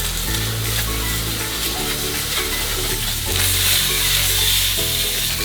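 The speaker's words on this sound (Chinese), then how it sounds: "新鲑鱼不用用油，就让它下去煎一下" Salmon fillets, skinned, halved and seasoned with salt and black pepper, frying in their own fat in a pan, giving a steady close sizzle with a brief louder surge partway through, under background music.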